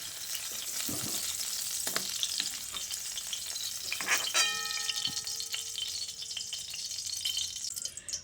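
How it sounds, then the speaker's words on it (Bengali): Potato and pointed gourd pieces fry in hot oil, giving a steady close sizzle with occasional clinks and stirring scrapes of a utensil, plus a brief ringing metallic tone midway. "দেখুন খুব ভালো করে ভেজে নিয়েছি। এবার এই আলু আর পটলটাকে তুলে নিচ্ছি।"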